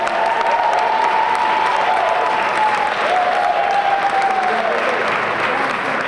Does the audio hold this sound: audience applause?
yes